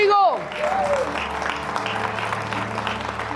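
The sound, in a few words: congregation applause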